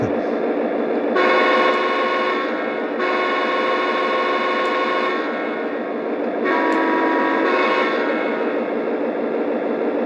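An Atlas model train locomotive runs steadily with a constant mechanical hum and rumble, with a few short horn-like tones sounding over it.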